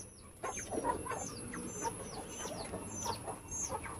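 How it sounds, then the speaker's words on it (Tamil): Guinea fowl call repeatedly from a farmyard, a steady series of sharp, rhythmic cackling cries at moderate distance over constant background noise. "கிண்ணி கோழி வந்துருச்சு"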